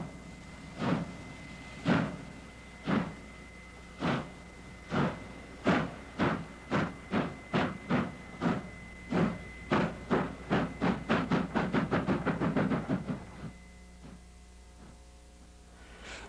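South African Class 25 condensing steam locomotive, Pacific number 858 with 6-foot drive wheels, working at a festival: strong exhaust chuffs start slow and spaced, then quicken into a rapid rhythmic beat before fading.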